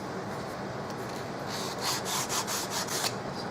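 Corners of a miniature wooden office desk being rounded off by hand, a steady close rasping rub with several brisker strokes near the end, no talk.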